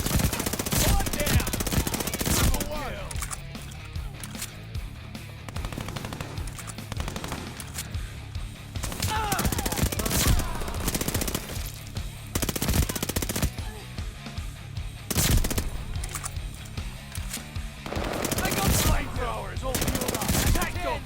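Armaguerra submachine gun firing in a video game, repeated sustained automatic bursts separated by short pauses, loud and close.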